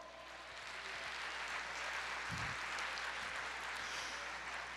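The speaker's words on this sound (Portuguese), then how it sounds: "Aplauda o Senhor." A church congregation claps during a sermon, a faint, distant wash of applause that swells slightly and holds steady, with a brief low thump partway through.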